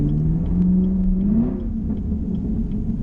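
A 2020 Shelby Mustang GT500 on the road gives off a steady low exhaust rumble with a shifting engine note and faint ticking crackles scattered through it, heard from nearby.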